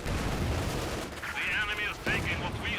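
Machine gun fire from a World War II battle in the strategy game Company of Heroes 2 rattles in short repeated bursts over a dense backdrop of battlefield noise and gunfire.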